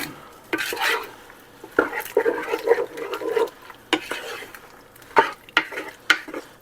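Strawberry jam mixture being stirred in a pot on a burner, with repeated close scraping and clinking strokes of a utensil against the pot in an irregular rhythm.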